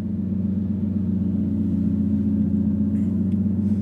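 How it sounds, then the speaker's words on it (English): Aston Martin V12 Vantage S, 565 brake horsepower V12, driving along: a steady, loud low engine drone and road rumble holding evenly from start to finish, with no voices. "So these are my first few miles in the V12 Vantage S"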